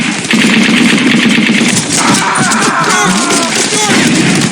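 Machine gun fire in the video game Brothers in Arms: Road to Hill 30, loud and sustained rapid bursts mixed with battlefield noise and voices shouting.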